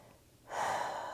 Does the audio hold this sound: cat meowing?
no